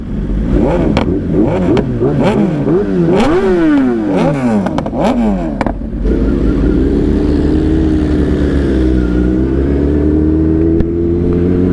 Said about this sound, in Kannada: full power Kawasaki engine